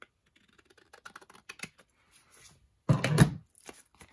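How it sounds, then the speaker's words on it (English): Scissors trim paper with scattered small snips and handling clicks, ending in a louder burst of cutting near the end, close and quiet with no talk. "I'll just trim it with my scissors."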